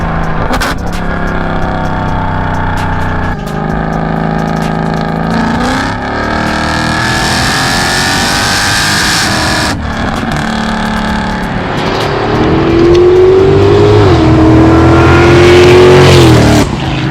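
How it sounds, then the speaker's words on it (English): A Mercedes CLK63 AMG with a Weistec stage 2 supercharger revs hard up close, loud throttle blips and sustained high-rpm pulls with shifting engine pitch, climbing to a long steady wail near the end. "this thing has a stage 2 Weistec supercharger on it"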